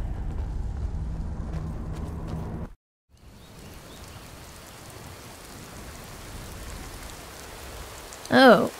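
Steady rain falls across an open landscape in the game Skyrim, a continuous dense hiss that drops out briefly for a moment before returning, with a short bright musical or interface chime near the end; no talking is heard.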